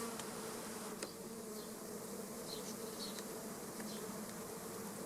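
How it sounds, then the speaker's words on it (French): A honeybee swarm hums in a dense, continuous buzz, with individual bees droning closer now and then over the steady mass of wings. "Un essaim, il faudra que je traite."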